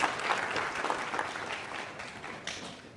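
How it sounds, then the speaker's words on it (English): An audience at a party gubernatorial primary vote count claps steadily for all the contestants, a dense, even patter of many hands that continues throughout without voices. "so we will clap for all the contestants."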